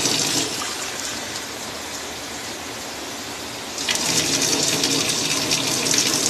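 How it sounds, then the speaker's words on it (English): Hot water runs from a kitchen tap into a bowl, a steady hissing stream that grows louder and brighter partway through, with no talking. "But I actually run some hot water on my bowl just to get it warmed up"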